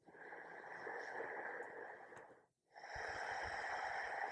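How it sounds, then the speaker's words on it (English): Deep, slow breaths during a yoga session form a long, soft, airy inhale, a brief pause, then a steady exhale. The breathing is close and quiet against a still background. "3 deep breaths."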